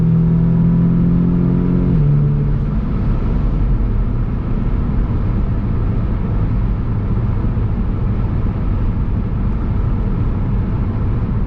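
An Audi S3 8V pulls hard in fourth gear after a high-pressure fuel pump install, its engine note climbing in a loud, sustained roar heard from inside the car, with no speech.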